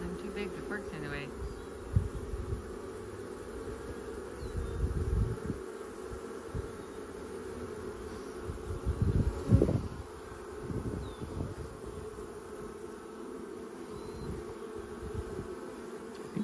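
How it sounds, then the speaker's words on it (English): Queen bees are released, and a continuous close insect buzz drones throughout with rustling handling noises and occasional bumps. Quiet speech is heard now and then. "Another one of the bee just went in."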